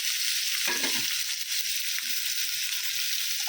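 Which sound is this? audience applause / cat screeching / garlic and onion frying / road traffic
garlic and onion frying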